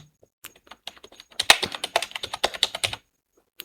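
Keystrokes on a computer keyboard while entering phone numbers into merged table cells in MS Word: a quick run of close, crisp taps, sparse at first, then dense, ending with a couple of isolated presses, no talking.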